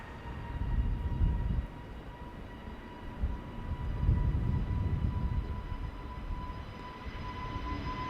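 A brand-new Airbus A320neo airliner departing Amsterdam Schiphol Airport gives a steady, distant low roar with faint hum tones, swelling briefly twice over about eight seconds.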